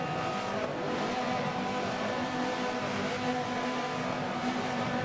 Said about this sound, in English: we can hear the revs lining up now